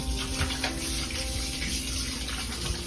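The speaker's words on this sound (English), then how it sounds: "I'm gonna wash my hands." A kitchen tap runs steadily into a sink while hands are washed under it, a continuous close splashing hiss of water with no talk.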